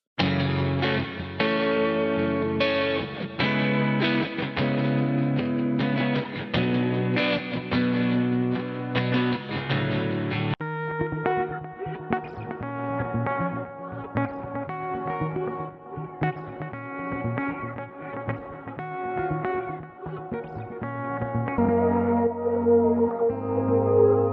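Looped guitar phrases run through heavy effects, echoing and shimmering, first dense and then sparser with repeated plucked notes. The music plays continuously with no voices.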